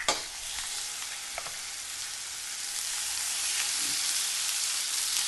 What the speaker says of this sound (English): I'm going to cook these in the pan over here